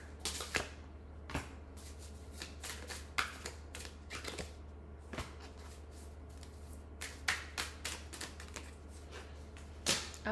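Tarot cards are shuffled and picked out, close and soft, with sharp papery riffles and flicks in scattered bursts separated by quiet gaps over a low steady hum.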